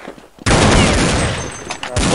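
Gunfire in a video game breaks out in a dense, loud burst of rapid shots after a brief quiet moment, continuing through the rest of the clip with a couple of sharper spikes.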